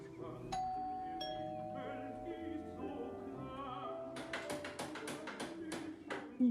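Doorbell chimes sound in a Hindi action film scene, with several sustained ringing tones one after another, then a quick run of sharp tapping clatter toward the end.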